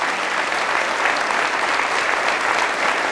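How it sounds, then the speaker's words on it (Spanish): A church congregation claps loudly and steadily together during a sermon, a dense, continuous wash of applause from a large crowd close by with no pauses. "Fuertes aplausos a la palabra de nuestro Señor."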